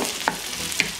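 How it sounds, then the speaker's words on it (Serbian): Chopped onion and red bell pepper frying together in a pan, a steady close sizzle with a couple of brief stirring scrapes. "Paprika i luk se prže"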